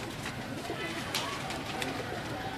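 Pigeons at Ustad James's house coo softly in the background, low murmuring calls from a flock kept at home, mixed with scattered flutters and outdoor noise.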